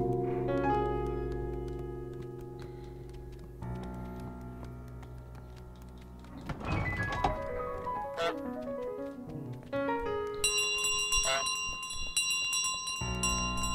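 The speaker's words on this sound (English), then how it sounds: "There's your bell." A bell rings out in Untitled Goose Game, its tones sustained over a bed of game music, with a brighter cluster of chiming, ticking notes coming in near the end.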